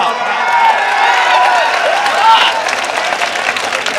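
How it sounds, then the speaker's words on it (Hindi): Audience applause at a mushaira poetry gathering in Gorakhpur, a steady broad wash of clapping from a large crowd, fairly loud and continuous, with some voices mixed in. "वो तालियां कमजोर है"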